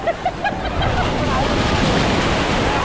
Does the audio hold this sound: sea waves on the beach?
yes